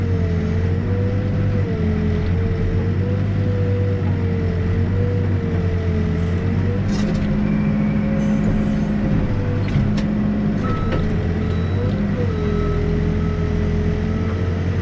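Backhoe engine rumbling steadily at close range while digging a 2-foot-wide footing trench, a continuous loud diesel drone with shifting pitch as the bucket works, with no talk.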